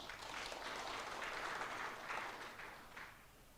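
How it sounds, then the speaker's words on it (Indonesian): Applause for a regent at an Indonesian launch ceremony for a young fish farmers' program, a faint, distant ripple of many hands clapping that swells slightly and then fades. "Tepuk tangan untuk Pak Bupati."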